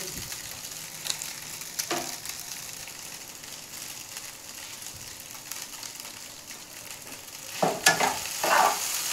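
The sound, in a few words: Maggi masala frying in a pan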